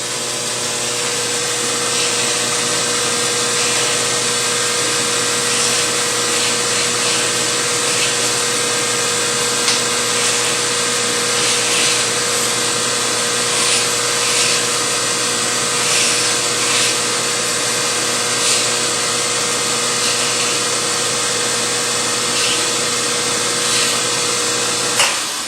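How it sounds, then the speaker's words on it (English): A rough grinder steadily abrading the edge of a Kydex plastic sheath, giving a loud, continuous high whine and hiss that holds nearly unchanged throughout, close up and with no talking. "grinding it with the rough grinder"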